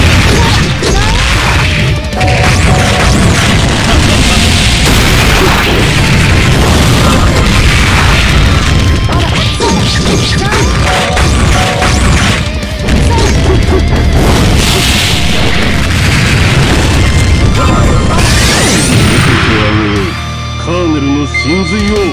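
Explosions and crashing impacts from a MUGEN fighting game tournament match, loud and dense throughout with repeated booming hits and bursts layered over game music and effects.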